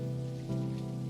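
Steady rain falls in the video game Necrobarista, a soft, even patter on a surface that holds constant and fairly quiet with no voices.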